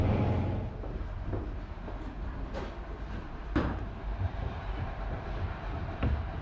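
A train rumbles steadily along the rails near Dawlish, Devon, with a low continuous roar and occasional sharp clanks and knocks, heard from inside.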